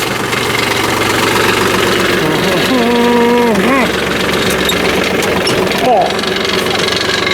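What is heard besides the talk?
Ford 2N tractor engine running with cultivator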